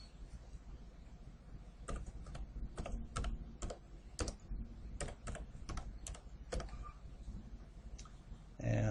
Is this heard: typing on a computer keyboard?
yes